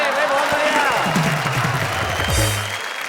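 At a Hindi kavi sammelan, the audience applauds with a dense wash of clapping under someone speaking over a microphone, the clapping continuing steadily throughout.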